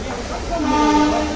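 A train rumbles at Jodhpur railway station, a loud, steady roar with a sustained horn-like tone rising over it for about a second and a half.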